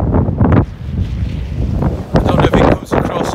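Strong gusty wind outdoors at a snowy football match, a loud, continuous low rumble buffeting the microphone, with brief bursts of voices or crowd noise rising above it.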